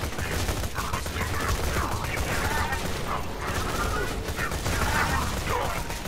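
Dense, continuous gunfire in the Borderlands 2 video game, a steady barrage of rapid shots with mechanical clatter filling the whole stretch at constant loudness, with faint voices in the background.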